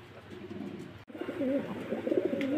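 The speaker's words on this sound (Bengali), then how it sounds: "এটা নতুন কবুতর" Several new pigeons coo in a low, rolling warble, the calls running almost continuously apart from one brief break, close and moderately loud with no talk over them.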